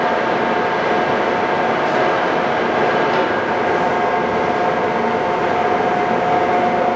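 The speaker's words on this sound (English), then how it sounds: "We're just going to go ahead and run a few select speeds for you." Giddings & Lewis 4-inch 340T horizontal boring machine with its spindle running at a selected speed, a loud, steady mechanical roar and hum with a constant tonal whine, close and unbroken throughout.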